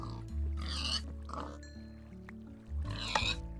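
Pigs grunt and oink in the Minecraft video game, several drawn-out snorting calls spread across a few seconds over a steady low mechanical drone and occasional game tones.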